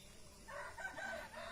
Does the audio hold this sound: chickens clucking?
yes